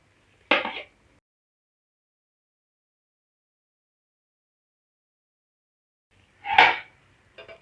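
Capsicum and onion being mixed in a kadai for kadai chicken: two brief, loud scraping strokes of a spoon against the pan, separated by a long silence.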